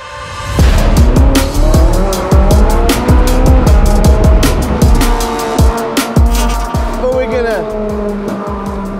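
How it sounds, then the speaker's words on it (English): Ferrari convertible with the top down driving fast, its engine revving hard through repeated up-and-down surges with tire noise, loud and close throughout, with talking underneath. "So we've got the Ferrari out, we got the top down"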